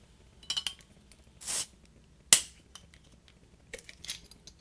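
A homebrewed beer bottle being opened nearby: scattered clinks of cap and glass, a short hiss of escaping gas, then a sharp pop and more light clinking, with no talk.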